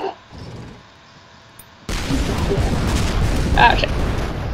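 In the artillery game ShellShock Live, a weapon fires and detonates with a sharp onset into a sustained, loud rumbling explosion lasting several seconds, while voices talk over it.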